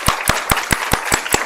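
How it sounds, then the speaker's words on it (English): A symposium audience claps for the set of speakers at the close of a morning session, seven sharp, evenly spaced claps ringing out clearly and close, like a single person's hands in a room. "Let's give the whole set of speakers another round of applause."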